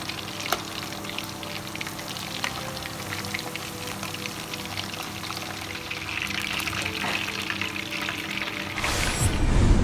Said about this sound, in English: So we're going to heat the oil up and start putting them in there.